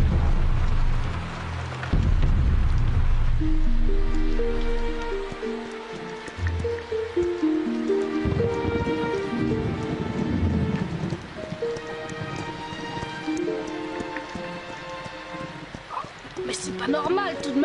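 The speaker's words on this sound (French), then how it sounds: "Est-ce que cette pluie va enfin s'arrêter? Elle tombe depuis des jours et des jours." Heavy rain pours in an animated Yakari cartoon, a broad, steady downpour strongest at the start, then sitting under a musical score and voices as characters talk.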